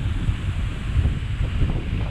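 Strong northeast monsoon wind, the amihan, buffets the microphone by open water, a steady low roar and rumble with surf-like wash underneath, continuous and close throughout.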